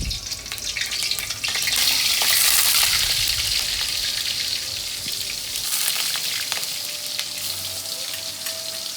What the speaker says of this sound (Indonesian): aku mau goreng tempe sedikit untuk anak-anak aku